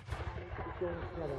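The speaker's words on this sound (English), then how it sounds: "British cannon responding to the French cannons." Deep booming British cannon fire rumbles in a rapid cluster of heavy reports, loud and close, with a faint voice in the background.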